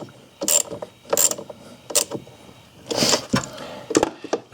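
A ratchet with a 10 mm socket tightens the battery cable on a 2016 Ford Escape, producing several short bursts of rapid, close mechanical clicking separated by brief pauses.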